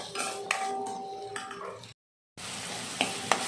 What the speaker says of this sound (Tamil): தக்காளி நல்லா வதங்கி வரட்டும்.